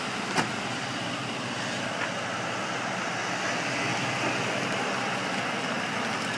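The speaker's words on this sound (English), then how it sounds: "it starts up. Now this unit has a lot of collision damage in the front, but it does run. We're gonna move this car forward for you." A 2008 Ford Crown Victoria Police Interceptor with front collision damage runs and creeps forward, giving a steady low engine and road rumble with a couple of faint clicks, no talking.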